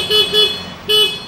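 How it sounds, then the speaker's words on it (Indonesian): A Freego 125cc motorcycle horn honks three times, the short blasts loud and close, the second trailing into the next with a brief gap before the third. "Nah ini bunyi klaksonnya teman-teman bisa dengar sendiri nih."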